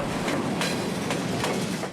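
A train rolls along a railroad line that needs upgrading, its wheels giving a steady, close rumble with a faint recurring clack as they cross the rail joints.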